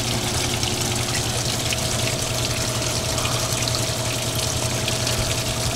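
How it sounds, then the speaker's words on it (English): Water rushes steadily into a washing machine as it fills, a constant loud gushing hiss with no breaks and no voices over it. "the water coming in was being picked up by your lavalier"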